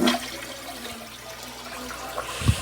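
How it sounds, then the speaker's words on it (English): A Glacier Bay dual flush toilet on normal tank parts with a blocked siphon jet flushes, water rushing and swirling steadily near the microphone before a soft thump near the end. "I'm gonna hold the handle down just for more pleasure of the flush"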